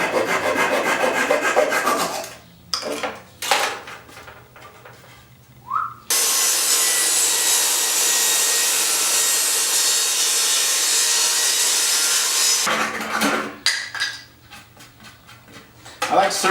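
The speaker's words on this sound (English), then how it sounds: "Then I just take a handsaw and I do the rest." Rough rasping strokes of a handsaw biting into the wood of an old sash window, with a long steady grinding stretch in the middle and choppier strokes before and after.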